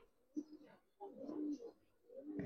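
A Giribaz pigeon of old bloodline coos close by in soft, low, throaty bursts, three short phrases rising and falling over quiet surroundings.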